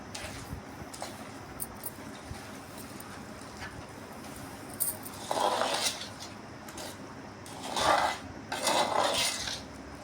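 Mango pickle made with dried red chillies and sesame powder is stirred in a bowl, with a spoon scraping and clinking against it in a few short bursts over a steady background hiss.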